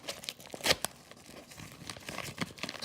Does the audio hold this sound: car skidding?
no